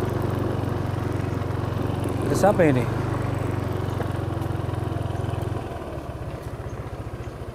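A motorcycle engine idles nearby in a steady, low, rhythmic putter that shifts slightly lower near the end, while people speak over it.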